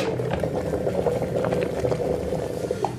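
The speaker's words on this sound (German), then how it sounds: "das Wasser kocht jetzt fast" Water coming to a boil in an electric kettle, a steady close rumble of bubbling and hiss with a constant level throughout.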